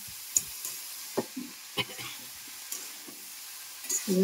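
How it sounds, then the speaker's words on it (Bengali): Drumstick flower curry stirred in a pan, a low sizzle with scattered scraping clicks and knocks of the spoon, close and fairly quiet, with a brief rising tone near the end. "সবগুলোকে আমি একশো ভালো করে মিশিয়ে নেবো।"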